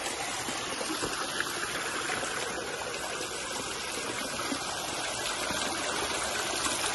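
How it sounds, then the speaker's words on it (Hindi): A small waterfall stream spills over rocks on Nakkati hill, a steady, close, continuous rush of flowing water with no break and no voices. "और हमें यहाँ थोड़ा सा वाटरफॉल मिला है भाई, पानी आप देख सकते हो"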